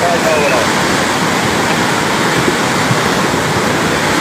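Lahar flood water in Lumajang rushing past, a loud, unbroken roaring wash close by that fills the whole scene.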